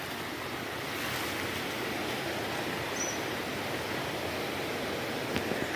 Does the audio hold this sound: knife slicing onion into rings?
no